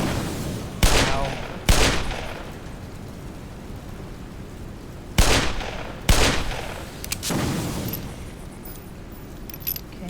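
Revolver gunfire in the Black Mesa video game: four loud, sharp shots in two pairs, each with a short decaying echo, and faint clicks and rattles between them.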